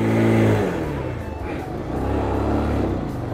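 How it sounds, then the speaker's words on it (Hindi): A motorcycle engine revs and strains while being ridden off-road through deep sand, a loud, close, continuous roar that rises and falls as the bike drifts. "पूरी बाइक यहाँ पे ड्रिफ्ट मारते जा रही है, बिल्कुल ड्रिफ्ट मारते जा रही है"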